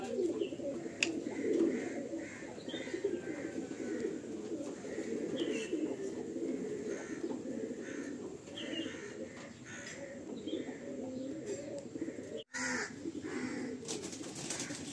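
Pigeons coo softly and steadily in the open after being released, with a few faint chirps from other birds mixed into a low outdoor background.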